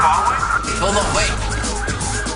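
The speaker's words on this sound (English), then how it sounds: "I hear sirens" Police sirens wail loudly with a rising and falling tone over road and traffic noise.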